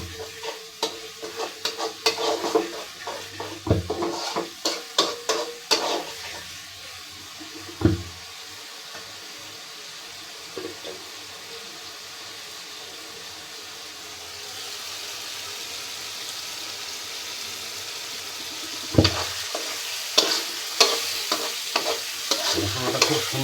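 Masala spice paste fries in oil as a spoon stirs and scrapes it around the pan, giving a steady sizzle broken by clusters of sharp clinks and scrapes. A quieter stretch follows before the stirring returns.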